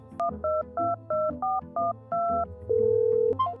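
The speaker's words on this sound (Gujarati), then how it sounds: "ફોન કરવા દઉં" Phone number being dialed on a telephone keypad: a quick run of about eight DTMF tone beeps in an even rhythm, then a steady ringback tone, loud and close with no talk.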